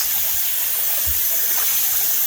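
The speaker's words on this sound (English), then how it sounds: "2 spoons full of vinegar along with some water, and we're gonna wash them, get them nice and clean and sterilize." Raw chicken pieces being washed in water mixed with two spoonfuls of vinegar, giving a steady, close splashing and running-water wash with no talk.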